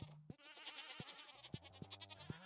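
Goats on a farm in a farming video game give a series of short, close bleats, several in quick succession over a soft background hum.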